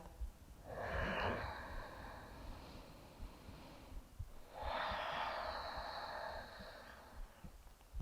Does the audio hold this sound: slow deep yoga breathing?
yes